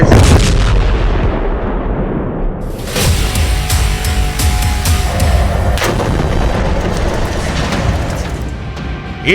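Bombardment in Gaza: heavy booming blasts and rumbling detonations overlap densely, then a run of sharp cracking reports like gunfire, loud and sustained throughout with no voices.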